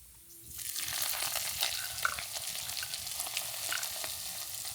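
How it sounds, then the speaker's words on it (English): Hot oil poured through a strainer onto a bowl of rotisserie chicken sizzles and crackles, rising quickly to a steady bright hiss with small pops, close and alone. "You're gonna hear that nice sizzle."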